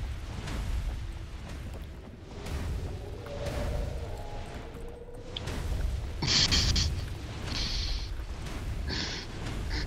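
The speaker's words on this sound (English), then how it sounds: "That's a lot of fireballs." A string of booming, fiery fireball bursts in the video game Gauntlet Slayer Edition erupts over a steady low roar, with a few sharper crackling flares toward the end.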